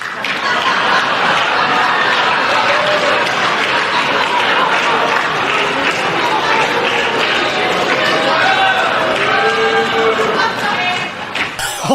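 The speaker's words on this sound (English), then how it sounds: "Oh no, that kind of rigid hand clapping, that's not good." Rigid hand clapping from a crowd at a Trump rally, a loud continuous wash of applause lasting throughout, with some laughter and a voice speaking over it.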